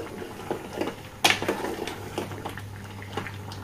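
Prawn and drumstick curry simmering in a pot: soft, continuous bubbling and light popping close by, with one louder clink or splash partway through, over a faint low hum.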